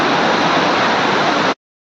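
Water pouring down a village waterfall at Korlai makes a loud, dense, steady rush close by, cutting off abruptly after about a second and a half.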